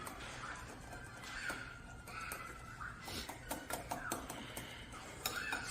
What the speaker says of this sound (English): I'm going to keep whisking.